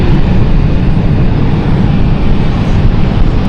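Loud, steady roar of an aircraft engine at London City Airport, a dense broadband rumble that holds constant throughout with no voices.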